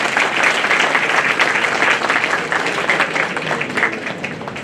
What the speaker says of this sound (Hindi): एक बार अपने लिए जोरदार तालियां बजा।